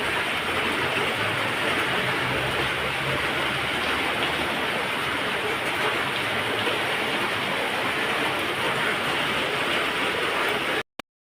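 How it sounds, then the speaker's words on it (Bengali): Steady rain falling outside a home, a dense continuous hiss of drops with no breaks, loud and close, ending abruptly; no voices. "কেমন বৃষ্টি শুরু হয়েছে আবার।"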